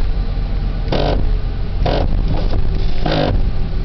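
A 1990 Ford F-150 with the 4.9L engine drives along, its steady engine drone and road rumble swelling in three or four louder surges, with faint rattles between them.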